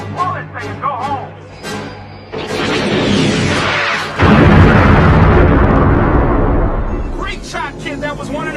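The Death Star from Star Wars blows up in a huge, roaring blast that swells into a sustained rumble and slowly fades, following a burst of film dialogue and effects.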